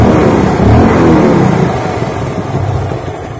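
A Yamaha Vega, Jupiter Z or Crypton motorcycle engine, after a clutch housing install, revs up loudly and close, roaring for a moment before settling back toward a rough, lower drone.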